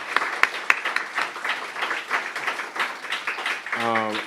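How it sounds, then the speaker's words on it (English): An audience at a book talk applauds, a steady patter of clapping with a few sharp nearby claps, ending as a voice begins to speak. "give a round of applause for Dean here, please"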